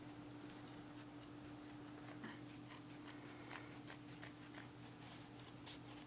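Leatherman Raptor trauma shears cutting through thick denim jeans, a run of small snipping clicks and crunches repeating at a steady, quick pace, faint and close over a low steady hum.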